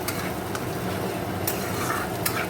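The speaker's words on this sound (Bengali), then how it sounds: "ওর মধ্যে দিয়ে এবার মশলাটা কষে নেব।" Masala spices frying in a pan with onion, ginger, garlic, tomato, chilli, cumin powder and Kashmiri chilli powder, a steady close sizzle with a spoon stirring and scraping now and then, with no voices.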